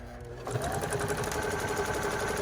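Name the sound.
sewing machine sewing a reverse stitch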